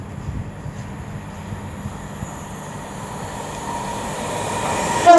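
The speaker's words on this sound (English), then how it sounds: "the train frightened the life out of me" Train passing through Rugby station on the West Coast Main Line, a steady rumble and rolling wheel noise close by, building toward the end.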